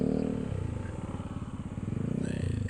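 An adventure motorcycle on a mountain road slows to a stop, its engine thrumming low and steady with a rhythmic pulse, close and fairly loud throughout, with a brief rise in tone near the end.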